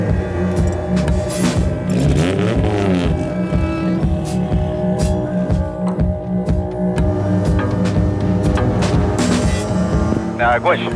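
A drift car on a qualifying run at a Drift Masters event in Europe, its engine droning loud and steady throughout, with rising revs near the start and a brief clatter toward the end; voices may be faintly mixed in.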